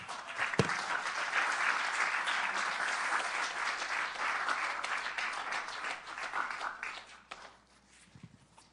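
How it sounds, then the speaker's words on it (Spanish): A church congregation applauds during a Spanish-language sermon, a full, sustained burst of many people clapping that holds steady for several seconds before thinning out and fading near the end. "Un aplauso al Señor."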